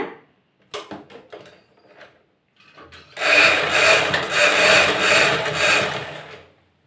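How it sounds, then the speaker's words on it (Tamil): A sewing machine stitching chudithar pant fabric runs in a steady, close whirring burst for about three seconds after a few scattered handling clicks and knocks. "பிடிச்சி இப்படியே தையல் ஓட்டிகிட்டே வந்தீங்கன்னா"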